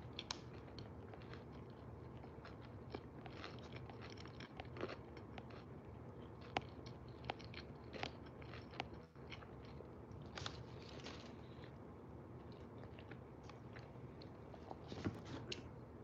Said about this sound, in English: I'm going to keep eating my Jollibee, by the way.